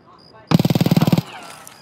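A fast automatic burst of about a dozen gunshots in Escape from Tarkov. The rapid, evenly spaced shots last under a second and sound close and loud, with quiet background noise before and after.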